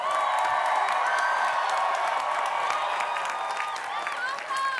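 At a Villanova University bachelor's commencement, a large crowd gives sustained, loud applause for the name-scanning and photo staff, with clapping mixed with cheers, whoops and crowd voices throughout.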